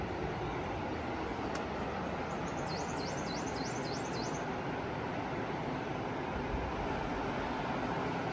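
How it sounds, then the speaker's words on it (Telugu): Steady, broadband rushing of flowing water near a stay in Manali, constant and fairly loud throughout, with a brief warbling bird call partway through. "వాటర్ సౌండ్ క్లియర్గా వినపడుతుంది."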